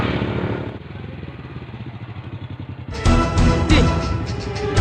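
Motorcycle engine idling with a steady chugging putter close by, then revving louder and rougher as it pulls away.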